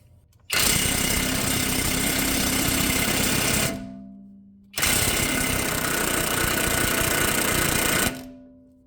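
Impact wrench hammering on a 24 mm control arm nut of a 2011-2019 Ford Explorer: two loud, close bursts of rapid rattling hammering, each lasting about three seconds, then winding down into a brief whir.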